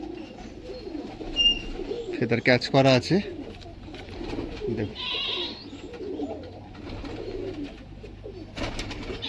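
An old male pigeon with yellow eyes, dark jamun-coloured plumage and a double eye-cere, coos in short rolling bursts at close range between spoken comments.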